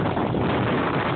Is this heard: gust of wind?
yes